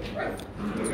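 A Rottweiler puppy gives short, high yips and whimpers close by, mixed with a person talking over it.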